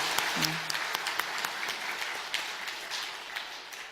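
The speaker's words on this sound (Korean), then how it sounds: "하나님께 영광과 감사의 박수를 올려드립시다." A Sunday morning church congregation bursts into applause, a dense wash of many hands clapping throughout, with a brief voice sound near the start.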